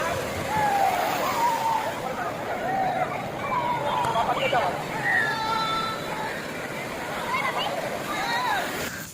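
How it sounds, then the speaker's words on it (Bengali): Seawater sloshes and splashes as many people bathe in the sea at Digha beach, with a busy crowd babble and shouts layered over the wash of waves. "অনেকেই সমুদ্রে স্নান করছেন"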